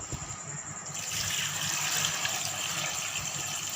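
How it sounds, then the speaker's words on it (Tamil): Water is poured from a tap over washed wheat grains set to soak, a steady full gush that swells after the first second and keeps rushing evenly, close and loud, with no talk. "இப்போ நம்ம தண்ணியை ஊற்றிடணும்"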